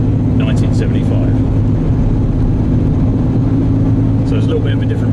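A 1975 Ford Granada GL cruises along with a constant low engine hum and road rumble, loud and close, with a few faint higher sounds briefly above it.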